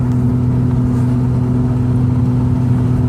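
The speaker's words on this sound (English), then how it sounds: "Hear the exhaust. The exhaust just howls." The twin-turbo exhaust of a 1989 Toyota Mark II GT drones loud and close, a steady, deep engine hum with strong low harmonics that holds an even pitch throughout, without people talking.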